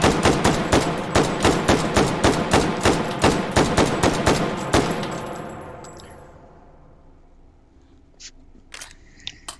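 Rapid semi-automatic gunfire from an AR-10 ArmaLite rifle in the VR game Hot Dogs, Horseshoes and Hand Grenades: about fifteen loud, evenly spaced shots, then a long fading echo and a few faint metallic clicks.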